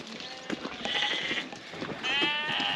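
Lambs penned apart ahead of shearing bleat repeatedly, several overlapping calls close by in a small flock with light shuffling between them.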